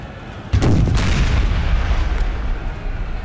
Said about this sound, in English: Oh man, Arty shot too high.